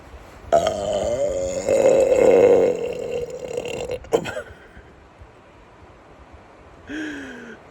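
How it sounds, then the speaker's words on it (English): A loud, drawn-out burp rumbles for a couple of seconds outdoors, followed by a short sharp noise and then a brief voiced sound near the end, with no speech over it. "was a good burp"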